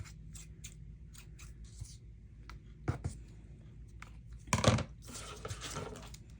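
Scissors snip through a cord for a handmade mini album, a few quiet clicks and cuts spaced out, then a louder burst of rustling and snipping close by.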